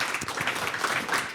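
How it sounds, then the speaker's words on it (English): Audience applause for an expert panel at a media industry conference, a steady dense wash of many hands clapping throughout, moderately loud with no pauses. "I think they deserve a really big round of applause."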